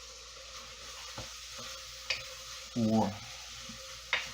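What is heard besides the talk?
onions added to pot, sizzling in pressure cooker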